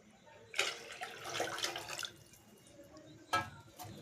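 Water poured from a bowl into a pan for vermicelli upma, two bowlfuls of water to one of vermicelli, heard as a close splashing pour with a couple of sharper bursts and no talk.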